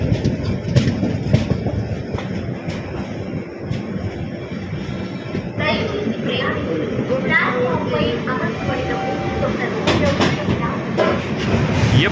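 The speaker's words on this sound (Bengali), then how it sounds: "জাস্ট ঢুকছে তিরুপতিতে ট্রেনটা" An express train pulls into Tirupati station with a continuous loud rumble and rattling carriages, someone speaking close over the noise.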